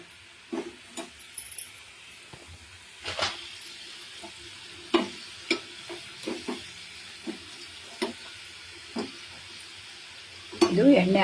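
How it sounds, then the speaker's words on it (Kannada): Food frying in oil while being stirred in a pan: a soft steady sizzle under a series of sharp clinks and scrapes of the spoon against the vessel, spaced irregularly throughout, with a louder clatter near the end. "ಇದು ಎಣ್ಣೆ ಆರೋ ತನಕ ನಾವು ಬೇಯಿಸ್ಕೋಬೇಕು."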